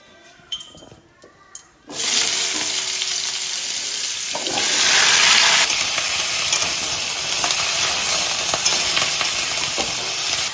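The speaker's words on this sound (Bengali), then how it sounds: "কড়াই গরম হয়ে গেছে, ইঁচড়টা আমি ভেজে নেবো।" Raw jackfruit dropped into a hot wok, a few light clinks and then a sudden loud burst of hissing sizzle that swells and stays steady and close.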